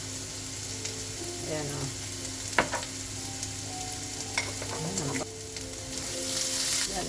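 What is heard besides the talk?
chicken nuggets browning in butter with thyme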